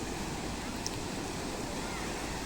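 Sea waves washing onto a shoreline, a steady broadband roar of surf with wind that stays even throughout, with no distinct breaks between swells.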